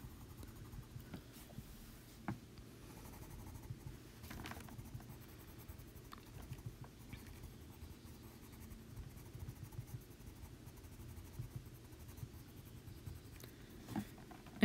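A colored pencil scratches softly across paper in short, quiet strokes, faint and close, with a low hum underneath.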